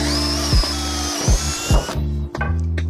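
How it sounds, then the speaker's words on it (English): A power drill bores through rivet holes in the iron shank of a homemade Roman pilum made from rebar, giving several short, close bursts with pauses between them. "I'm gonna go ahead and drill through the rivet holes."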